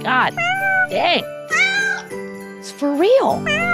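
A house cat meows and yowls loudly at close range in a run of drawn-out, rising and falling cries, with a brief spoken exclamation and a faint jingle.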